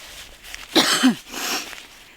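A couple of harsh, throaty coughs close by from dust and dirt in the throat on a tough fort trek, with a quieter rough exhale trailing after them.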